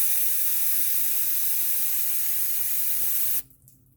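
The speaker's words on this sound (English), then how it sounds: "grab a can of brake clean and..." Can of brake cleaner sprayed in a continuous loud hiss for about three and a half seconds during a transmission fluid service on a 2008 Subaru Impreza, then cutting off abruptly into quiet.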